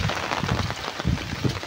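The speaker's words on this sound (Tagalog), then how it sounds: "Kumbaga ay lumakas lang yung ulan." Heavy rain from Typhoon Kristine pours down in the Philippines, a dense, loud, continuous hiss and patter drumming on a nearby surface with no pauses.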